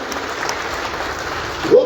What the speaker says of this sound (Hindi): एक बार सारे मिलकर तालियां बजाओ